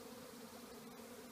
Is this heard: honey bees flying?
yes